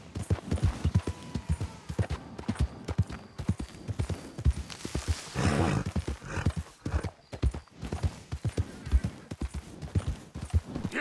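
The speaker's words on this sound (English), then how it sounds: "Good horse." Horse hooves from a cowboy video game clip-clopping in a steady, brisk rhythm close by, with a brief whinny partway through and no talking over it.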